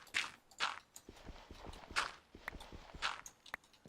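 Horse hooves clopping in the blocky sandbox game Minecraft, a steady run of distinct, fairly soft footfalls in an uneven galloping rhythm, heard alone without talk.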